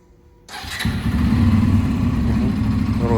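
Motorcycle engine starting during a riding lesson in Istanbul: a short click, then the motor catches and settles into a loud, steady near idle with a slight rev.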